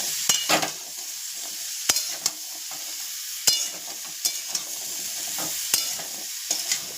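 Hog plum (amra) being stirred with salt in a frying pan: soft background sizzle broken by sharp scraping knocks of a utensil against the pan, irregular and close, with no talk.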